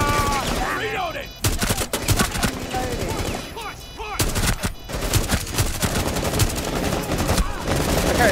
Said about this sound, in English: Okay, now they're shooting me from beyond.